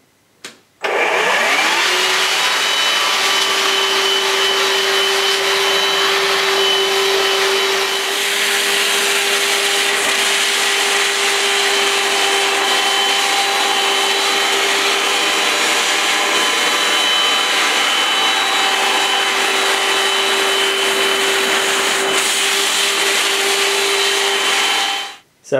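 A Vax Floormate Cordless hard floor washer runs in wash and dry mode, giving a loud, steady motor whine and suction roar with a constant hum. It is passed forward and back across a floor, spins up at the start and cuts off at the end.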